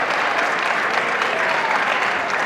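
Sustained, dense applause from a crowd at a table tennis team championship match, steady and loud throughout with no pauses.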